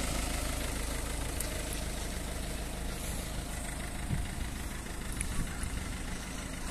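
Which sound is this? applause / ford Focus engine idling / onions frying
ford Focus engine idling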